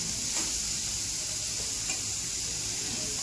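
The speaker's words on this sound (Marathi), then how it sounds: "चांगला तर सोनेरी रंग येईपर्यंत थोडं परतायचं." Onion and green chilli frying in a pan in a home kitchen, a steady close sizzle with bright hiss throughout and faint stirring scrapes, no voices.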